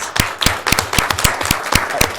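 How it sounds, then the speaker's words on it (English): A small group claps in a county commissioners' meeting room to honor staff, with about a dozen distinct, evenly spaced claps over a couple of seconds, close and fairly loud. "we'll give you a round of applause"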